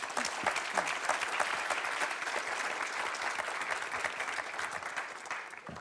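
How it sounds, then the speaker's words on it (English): Sustained applause from an audience at a HaDEA showcase event, dense steady clapping filling the room for about six seconds with no talking over it. "Can we have a round of applause, please, for our speakers?"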